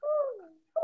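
A voice imitates an owl hoot with a drawn-out, falling coo, close and fairly loud, followed by a brief second hoot after a short pause.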